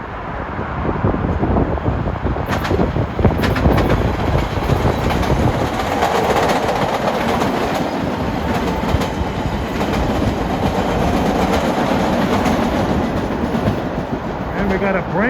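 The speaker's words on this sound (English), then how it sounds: "Here comes a Braintree Airlife Redline train with some of the Bombardier cars." MBTA Red Line subway train bound for Braintree, running Bombardier cars, passing close by with a steady loud roar, rattling wheels and rhythmic clickety-clack throughout.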